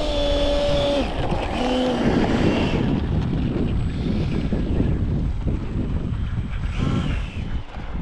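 A light aircraft's steady engine drone at an airfield, close and continuous with broadband wind rumble over the microphone, a few faint tonal whines early on and no voices.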